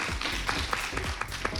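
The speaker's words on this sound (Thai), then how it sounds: "ขอเสียงปรบมือให้กับทายและมาร์คค่ะ" Studio audience applauding Tai and Mark, a short run of evenly spaced claps at moderate loudness with steady crowd murmur underneath.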